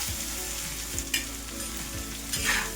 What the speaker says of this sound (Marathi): आता कांदा आपल्याला छान परतून घ्यायचा आहे मस्त असा बदामी रंग येईपर्यंत मिडियम गॅसवरती परतायचा